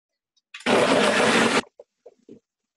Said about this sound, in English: this is a Ninja, so it's a high-powered blender.